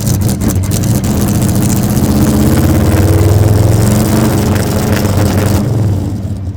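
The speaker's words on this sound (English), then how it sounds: "First start of the day." An engine of a classic car at a concours event, apparently a Jaguar XK 120, starts cold for the first time that day and settles into a loud, steady, throbbing idle close by, with no speech.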